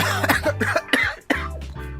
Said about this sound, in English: It is supposed to be so rude to cough on the radio.